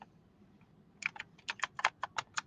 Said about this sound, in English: I'm making sure I'm typing it in correctly.